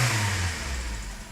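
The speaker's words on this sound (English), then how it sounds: "that engine sounds absolutely spot on if you ask me." A Nissan Micra 1.0 engine revs briefly, a close, fairly loud mid-pitched drone that starts high and gradually eases back toward idle.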